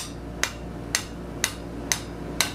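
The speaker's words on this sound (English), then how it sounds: "Hammer that back straight." Five evenly spaced, sharp hammer strikes ring out on a metal bar being straightened, each a crisp clang about half a second apart, close and distinct over a low steady background hum.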